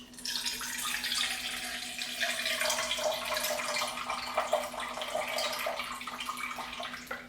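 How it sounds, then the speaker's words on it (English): Water poured from a tap into a bowl on a scale while measuring 175 grams for bread dough, a steady close splashing stream with a rising tone as the bowl fills, running several seconds without speech. "we're gonna put 175 grams of water in here"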